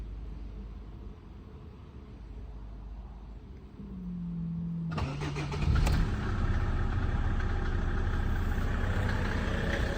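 A Mercedes OM605 diesel engine with a knock after the glow plugs switch off is cranked and fires up after a quiet stretch of background hum, then settles into a loud, steady idle close by.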